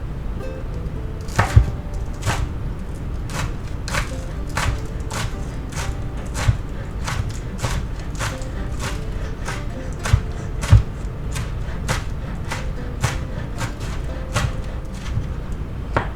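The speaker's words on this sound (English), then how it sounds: "Now we'll go ahead and take our green onions, yep, and we'll chop them up." A knife chops green onions on a cutting board in a steady run of sharp, evenly spaced taps, close and clear, with no talking.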